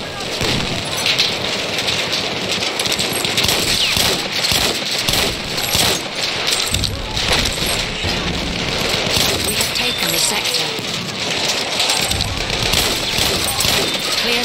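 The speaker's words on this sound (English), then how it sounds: "Enemy machine gun sighted!" Battlefield 1 machine gun fire on the Meuse–Argonne battlefield, dense rapid bursts with scattered gunshots and crashes filling the whole stretch, loud and continuous, with shouted game voice lines mixed in.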